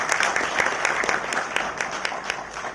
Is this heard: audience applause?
yes